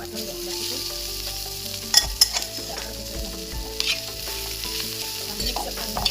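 Cluster bean chutney being stirred in a pan after garam masala is added, with a steady sizzle of frying and a few sharp scrapes and clinks of a utensil against the pan, close and without talk.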